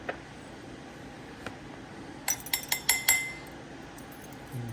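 A metal teaspoon clinks against a glass jar while L. reuteri powder is added, a quick cluster of five bright, close rings after a couple of isolated taps, then a soft scrape.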